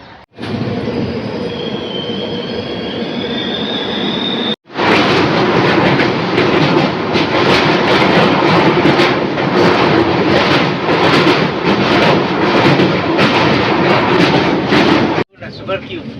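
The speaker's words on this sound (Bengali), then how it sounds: "এখন ট্রেন ছেড়ে দিয়েছে, আবার ভেতর দিয়ে যেতে হচ্ছে" A moving passenger train heard from inside a coach on a route toward Puri, a loud continuous rumble with rhythmic clickety-clack wheel beats over the rails, briefly broken by a door-like cut, with faint voices in the carriage.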